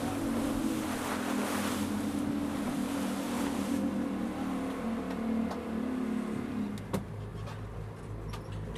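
Outboard engine of a salmon fishing boat off Westport running hard at full throttle, a loud steady roar with water rushing and slapping against the hull throughout, a sharp knock near the end, and no talking.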